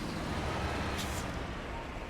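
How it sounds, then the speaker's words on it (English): Truck engine in the off-road driving game SnowRunner, a steady broadband rumble with a brief hiss near the middle, loud and continuous throughout. "It's just a normal like truck sound."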